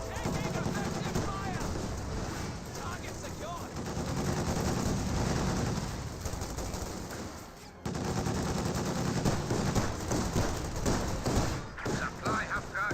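An incendiary barrage pounds down in Company of Heroes 2, with dense, continuous bursts of explosions and gunfire rumbling under a caster's voice, broken by a brief dip before resuming.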